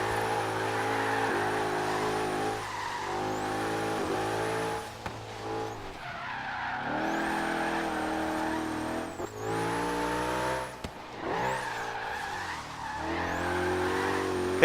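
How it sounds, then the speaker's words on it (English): Race-tired car drifting across a snowy mountain in Forza Horizon 3, its engine droning and revving steadily while tires squeal and skid almost continuously, with brief dips around gear changes; no talking. "Do a little drifter."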